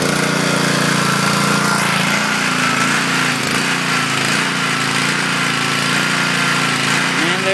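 A MI-T-M Chore Master 2600 PSI gasoline pressure washer's small engine runs loud and steady close by, a constant rough drone with slight wavering in speed.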